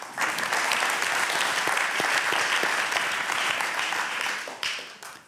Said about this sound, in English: give one more applause for Edwin?